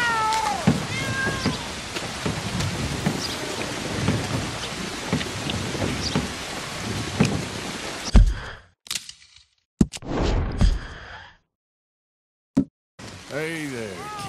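Several cat meows in Red Dead Redemption 2 rise over steady rain and rumbling thunder, then the storm cuts out into gaps of silence broken by short bursts and another meow.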